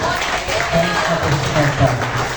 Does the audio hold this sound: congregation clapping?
yes